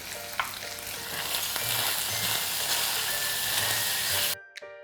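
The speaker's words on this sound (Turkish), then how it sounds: "Ve birkaç dakikada onlarla birlikte kavurmaya devam ediyorum." Steady sizzling of vegetables sautéing in a hot pan, with a few light stirring scrapes, continuous and close, ending abruptly.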